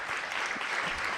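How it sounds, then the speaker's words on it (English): Brief burst of audience applause for panelists at a Brooklyn arts council regrant ceremony, soft and fairly distant, a short wash of clapping. "So for the panelists, I want to give a round of applause."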